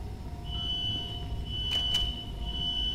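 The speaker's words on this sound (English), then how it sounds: "let's shut off the fire alarm again" Fire alarm in the video game Infra sounding as a steady high electronic tone that starts about half a second in and holds to the end, over low background rumble, with two brief bursts near the middle.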